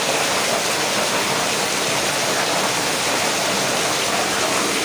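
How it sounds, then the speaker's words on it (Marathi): Heavy rain pours down in a loud, steady, unbroken hiss that fills the whole clip, during a downpour in Dadar, Mumbai. "पाऊस बघा किती जोरदार पडतो"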